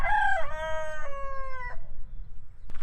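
A young trainee cockerel in a quiet French village crows in a halting, uneven call with a couple of sustained harmonic segments, fairly close and clear, followed by a brief faint sound near the end.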